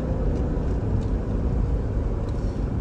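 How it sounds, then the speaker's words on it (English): A Dodge Durango R/T HEMI engine coasting after the throttle is released, a steady, dense low drone of engine and road noise filling the cabin without a break. "Alright, so we let off the gas."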